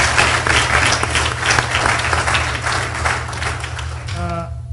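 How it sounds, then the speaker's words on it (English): Audience applause for speakers at a cybersecurity panel on public and private partnerships, a steady wash of many hands clapping that runs loud for about four seconds before thinning out, with a low hum underneath. "So a round of applause to them and to their participation."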